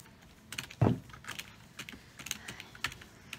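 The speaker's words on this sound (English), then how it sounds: "he's hitting the keys there." Keys tapped on a laptop or computer keyboard indoors, a quick irregular run of light clicks with one heavier thump near the start, close and fairly quiet.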